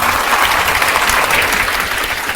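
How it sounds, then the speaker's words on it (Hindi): Loud, sustained applause from an audience at a coaching institute gathering honoring a successful excise sub-inspector candidate, a thick uninterrupted wash of clapping hands close by. "एक बार इनकी सफलता के लिए जोर से ताली होना चाहिए"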